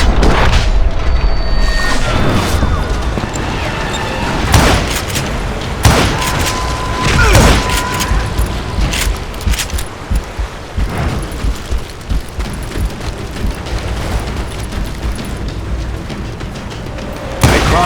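Gunfire and explosions in the Call of Juarez Gunslinger video game, loud repeated booming blasts and scattered shots over a dense rumbling backdrop, with a brief voice now and then.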